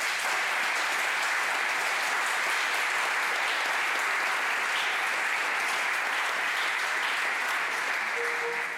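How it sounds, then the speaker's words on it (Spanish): Sustained audience applause at a classical radio recording session in the National Library of Spain in Madrid. Dense, steady clapping holds at an even level throughout, with no pauses and no voices over it. "Un aplauso para él"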